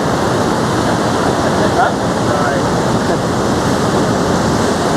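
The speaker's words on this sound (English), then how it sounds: "The swells are not too bad, but just got to keep an eye on this water coming back in." Ocean swell washing back over the rocks at Broken Head at sunrise makes a steady, loud, broadband roar of surging water with wind buffeting the microphone and no clear breaks.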